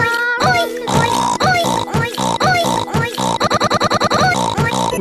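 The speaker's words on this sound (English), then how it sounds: "all the little piggies on Christmas Eve go oink, oink, oink" Cartoon pigs oink in a rapid run of loud, close, squealing grunts, a steady rhythmic series that speeds up into quick repeated oinks near the end.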